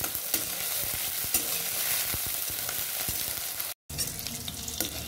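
Chopped onion and garlic sizzling in hot oil in a pan for jute leaf curry, with a steady bright fry and repeated scraping stirs throughout, briefly cut off near the end.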